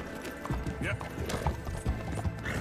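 Horse hooves clip-clopping at a gallop in a Red Dead Redemption game, a steady rapid rhythm with an occasional whinny, under a player's talk and game sounds.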